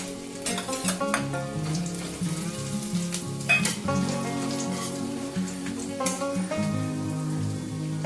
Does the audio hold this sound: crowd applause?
no